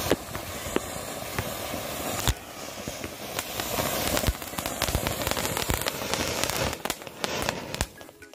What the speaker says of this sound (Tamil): அடுத்து அடிக்கிறது கிராக்லிங் பஸ்டர்.